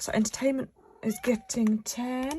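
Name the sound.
cat meowing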